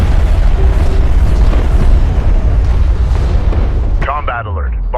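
Explosions boom as a bomber is destroyed in the real-time strategy game Homeworld: Deserts of Kharak, a dense, loud rumbling barrage that continues throughout, with a brief voice announcement near the end.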